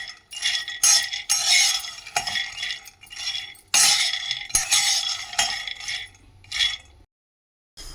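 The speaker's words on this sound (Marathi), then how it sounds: "तर आता हे शेंगदाणे आम्ही भाजून घेतोय." Peanuts are dry-roasted in a pan and stirred, giving loud, close scraping and rattling strokes in irregular bursts, then a short silence near the end.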